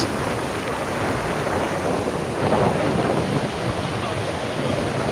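Thunder rumbles through a stormy afternoon at Digha Mohana beach, where river meets sea, as a steady broadband roar of surf and wind fills the whole stretch with a slight swell midway.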